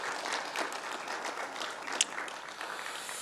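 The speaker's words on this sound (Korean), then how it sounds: "박수로 감사합시다." Church congregation applauding during a Sunday service, a steady wash of many hands clapping at moderate volume with no voices over it, one sharper clap standing out near the middle.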